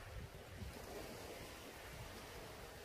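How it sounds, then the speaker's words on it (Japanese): Sea waves wash steadily onto a sandy beach on Tsushima, one of Japan's 100 best beaches. A continuous low surf roar mixes with wind buffeting the microphone. "日本の渚100選に選ばれた海、どんなものなのか。"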